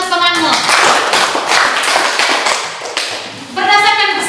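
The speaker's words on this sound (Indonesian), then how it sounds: "tepukan untuk temanmu" Classroom students clap for a classmate, a loud burst of close, dense hand claps lasting a few seconds, with a teacher's voice speaking before and after.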